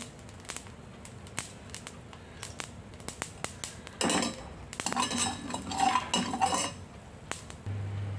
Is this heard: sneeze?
no